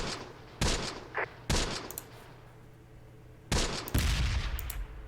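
Gunfire bursts in the Close Combat video game, a WWII North Africa battle where ordnance targets a tank hunter team; several loud broadband volleys and rattles arrive in clusters with quieter gaps between them, and no speech.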